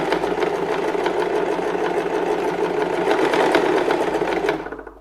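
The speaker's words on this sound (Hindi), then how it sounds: "तो मैं ये बीच से सिलाई शुरू कर रही हूँ यहाँ से।" A sewing machine stitches fabric for a small cushion, a close, steady rapid whirr running continuously for about four seconds before stopping abruptly.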